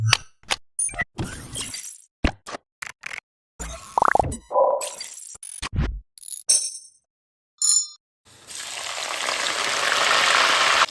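Spices and curry leaves for seeni sambal drop into hot oil with scattered plops, clinks and sharp crackling bursts, separated by silences, before a steady close sizzle builds and continues to the end; no talking.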